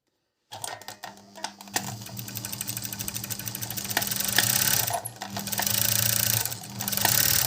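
A Prima overlock sewing machine motor starts up and runs with a close, rapid mechanical clatter and whir, its rhythm shifting and swelling as it keeps going, with no speech.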